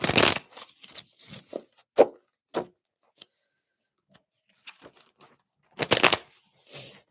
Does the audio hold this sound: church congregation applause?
no